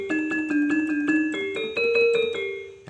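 A Yamaha PSR E463 keyboard plays a bright, metallic saron-like voice, picking out a short melody of evenly spaced struck notes that ring and decay, close and alone.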